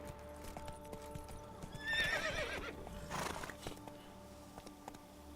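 The horse Roach in The Witcher 3 gives a clear whinny over steady clip-clopping hooves, with a second softer neigh after it and a faint game-world background throughout.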